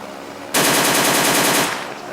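A loud burst of rapid automatic gunfire rings out in the Immersive Vehicles video game mod. The quick shots run together for about a second after a quiet start, then fade out.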